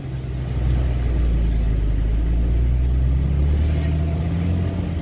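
A car engine runs steadily on the road, a loud, close, continuous low hum and rumble with no pauses.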